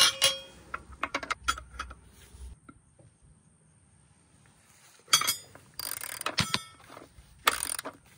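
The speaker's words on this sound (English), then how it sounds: "I'm gonna use a wrench. Put it on the end of the ratchet." Ratchet wrench clicking and clanking while loosening a tight, thread-locked bolt on a Suzuki 150 outboard motor, in scattered bursts of close metallic clicks and clinks separated by quiet pauses.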